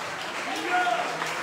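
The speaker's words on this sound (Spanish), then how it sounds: "Ese aplauso al eterno." A crowd at a memorial service applauds with dense, steady clapping, moderately loud and continuous for the whole moment.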